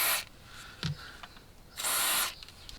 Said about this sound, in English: Silicone spray is going to be my best friend there.